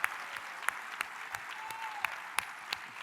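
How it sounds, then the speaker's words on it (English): An audience at a charity event applauds steadily, a dense wash of clapping from many hands with a few sharper claps standing out. "give me a rousing round of applause to thank Dave Curry for this"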